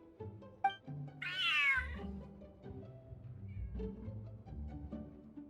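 A large cat in the game Genshin Impact gives one clear, drawn-out meow near the start, set against soft game music and ambient tones.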